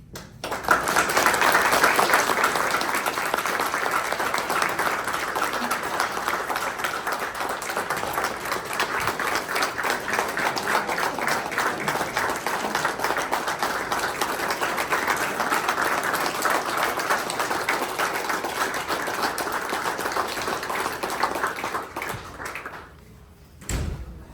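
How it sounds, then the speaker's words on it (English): Long, steady applause from the audience at a Vietnam veteran reunion in Bowling Green, Kentucky, dense clapping sustained for over twenty seconds before tapering off and stopping abruptly. "They deserve the greatest applause that you can give them."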